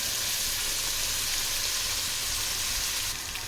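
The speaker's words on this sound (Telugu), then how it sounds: "ఉల్లిగడ్డలు మంచిగా వేగిపోయినాయి కదా" Onions and green chilies frying in a pan for a fish curry, a steady, close hiss and crackle of sizzling oil that holds evenly throughout and eases slightly at the end.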